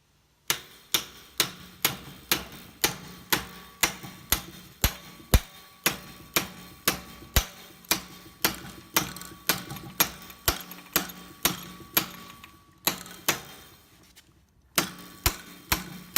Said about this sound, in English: Then grabbing a hammer, and just tapping it in.